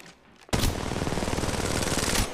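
Automatic gunfire in Apex Legends Mobile: a continuous, loud stream of rapid shots starts abruptly after a brief quiet moment and holds steady until the end.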